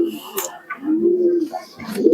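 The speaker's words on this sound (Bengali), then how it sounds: "আর আমার বাড়ির দেখুন এই একটা কবুতর" A pigeon kept at a home loft gives a few soft, low coos close by, short rounded calls with brief pauses between them.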